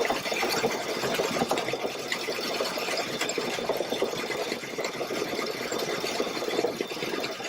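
A Baby Lock Solaris sewing machine stitches an edge-to-edge quilting pattern, its needle chattering in a fast, steady mechanical rhythm, close and continuous without pause.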